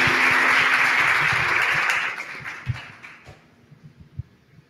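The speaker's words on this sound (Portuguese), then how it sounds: "Uma salva de palmas para os nossos professores." Audience applause for teachers at the close of a university panel event, a dense loud burst of clapping that thins out after about two seconds into scattered trailing claps.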